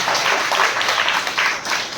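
A church congregation at a Sunday service clapping together, a dense burst of rhythmic handclaps lasting a couple of seconds with no voices over it.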